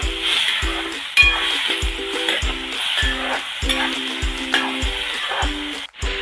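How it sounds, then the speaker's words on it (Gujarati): Potato pieces for chilli potato sizzle steadily in hot oil, with a continuous loud fry broken by regular stirring strokes, about a dozen scrapes across the pan. "બસ આને બે થી ત્રણ મિનિટ સુધી ફ્રાય થવા દઈએ"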